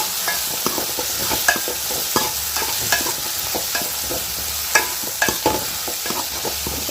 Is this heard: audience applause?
no